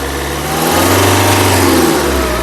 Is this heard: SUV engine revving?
yes